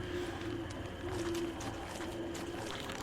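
Tallbird calls in the Don't Starve video game: low repeated cooing hoots, three drawn-out notes at an even rhythm over a busy, constant game background.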